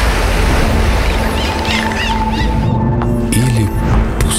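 Sea waves wash and surge steadily at close range, with wind over the microphone and a few faint clinks near the end.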